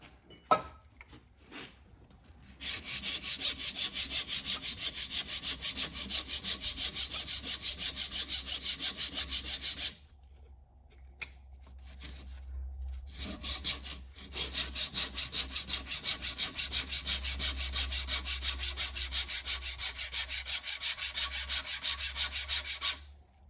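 A wooden axe wedge is tapered by hand with loud, steady back-and-forth rasping strokes, one long run of scraping, a quieter pause with scattered scrapes, then another sustained run up close.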